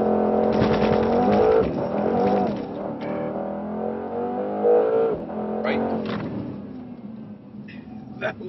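A Mercedes C63 S accelerates hard on a race track, its engine note climbing in strong, rising sweeps as speed builds and later easing off. A voice can be heard over the engine.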